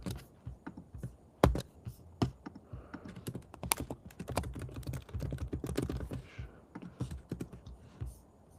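Code is typed on a computer keyboard in close, irregular bursts of key clicks, with occasional heavier taps and brief pauses between runs.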